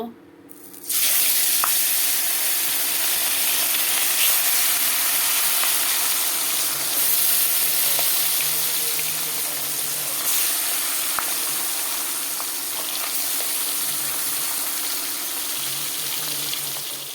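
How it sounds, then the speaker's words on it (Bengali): Fish sizzles loudly in hot oil in a wok, a sudden burst of frying that starts within a second and then holds as a steady close crackle. "কড়াইতে তেল দিয়ে দিলাম এখন মাছগুলো দিয়ে দেব"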